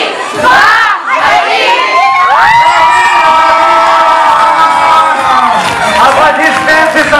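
A crowd at a waacking dance battle final whoops, shouts and cheers loudly and continuously, with high excited voices dominating throughout and an announcer's voice briefly audible.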